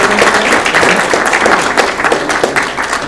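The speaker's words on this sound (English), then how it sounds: "another round of applause for all elementary" Loud, close audience applause for elementary students at a school district student-of-the-month presentation, a dense burst of clapping with some crowd noise that holds steady throughout.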